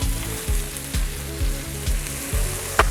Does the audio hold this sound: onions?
yes